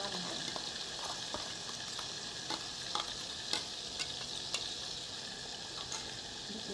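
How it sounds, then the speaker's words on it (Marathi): Onion-tomato masala paste frying in oil for misal, a steady dense sizzle with spatters and occasional stirring clicks of a spoon against the pan, close and continuous with no talking. "एकदम तेल सुटून तर मसाले भाजून घ्यायचा"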